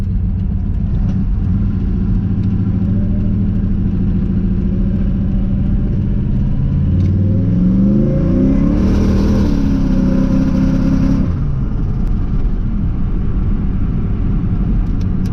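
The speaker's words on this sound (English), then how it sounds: "We're gonna do a quick little zippity zap first gear pull here" A turbocharged LS-swapped Mustang idles with a loud, steady rumble, then revs hard through a first-gear pull, engine pitch sweeping upward with a turbo whistle before easing back off, heard close from inside.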